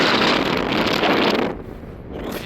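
Strong, gusty wind roars and buffets the microphone at a mountain pass summit on the Tour du Mont Blanc in the off-season, loud and steady, then easing slightly partway through.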